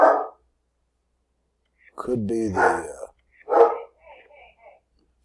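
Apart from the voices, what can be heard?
Airedale terrier barking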